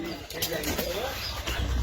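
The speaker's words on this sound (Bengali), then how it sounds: "এই পায়রাটা উড়ে দিই" A pet pigeon is released by hand to fly, giving a brief burst of wing flaps and soft cooing close by, with a faint voice in the background.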